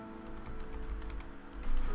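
Quiet, irregular clicking of keys on a computer keyboard, a light patter of taps with a slightly busier burst toward the end, heard alone without talk.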